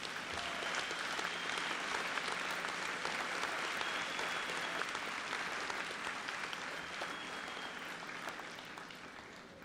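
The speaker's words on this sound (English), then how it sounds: "Please give these guys a round of applause." Sustained applause from the audience at a senior awards assembly, a broad even roar of clapping that holds steady and fades slightly toward the end.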